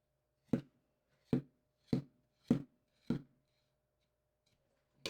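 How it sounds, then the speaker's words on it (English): Knife tip scoring the smoothed fat cap on a New York strip beef roast: five short, crisp scraping strokes at a steady rhythm, close and fairly loud, with a sixth starting at the end. "if you take the tip of a knife like this and just score it"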